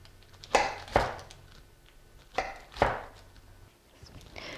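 A sharp or serrated knife cuts through a baked Greek biscotti loaf in four firm strokes, arriving in two pairs, each stroke a crisp crunching rasp that ends in a knock on the board, with quiet pauses between the pairs.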